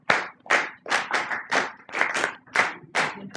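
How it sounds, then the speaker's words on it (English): An audience claps a steady rhythm in unison, about eight firm, evenly spaced claps in a little over three seconds, loud and close with no talking. "if you all clap this, underneath that rhythm"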